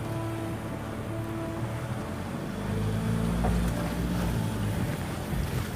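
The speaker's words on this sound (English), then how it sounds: "the Defender is just wading through" A Land Rover Defender wades through deep water, giving a steady low engine drone beneath a broad rush and slosh of water that swells partway through, close and continuous with no talking.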